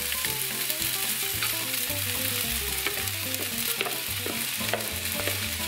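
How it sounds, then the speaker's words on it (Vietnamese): Lobster pieces stir-fried in a hot pan give a loud, dense, continuous sizzle and crackle with repeated scraping and tossing strokes throughout, close and steady with no voices. "Xào miếng này thì nhanh lắm mọi người"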